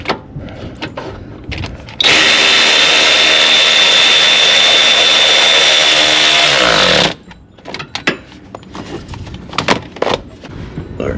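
A power tool drives a deep socket onto the alternator bolt of a Dodge Grand Caravan: one loud, steady whirring burst of about five seconds, with light tool clatter just before and after.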